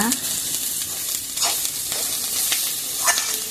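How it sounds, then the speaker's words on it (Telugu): Onions frying evenly in a pan make a steady close sizzle for a beetroot fry, with occasional stirring scrapes breaking through the crackle. "ఉల్లిపాయలు అవి సమానంగా వేగుతూ ఉంటాయి."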